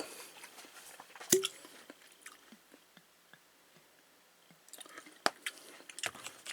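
Someone chews crunchy fried lotus root dipped in mayonnaise, close and quiet, with soft crisp bites and wet mouth clicks scattered across the clip.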